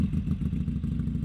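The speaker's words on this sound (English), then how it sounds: "let's turn on the engine, let's go for a ride." A Harley-Davidson Sportster motorcycle engine runs steadily up close, a dense low rumble with a rapid pulsing beat and slight clatter, held at an even level with no talk.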